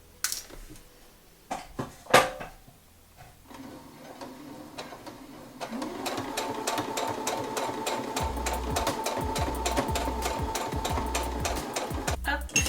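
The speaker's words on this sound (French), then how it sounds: "je fais ma surpiqûre à peu près à 2-3 mm du bord." A domestic sewing machine topstitches along the edge of a fabric mask, starting after a few scattered clicks and handling noises and then running in a fast, steady, close mechanical patter for several seconds.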